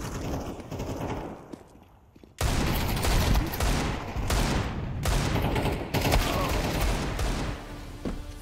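Counter-Strike 2 gunfire comes in dense automatic bursts after a quieter lead-in, with sharp repeated shots and short pauses between volleys, loud and close throughout.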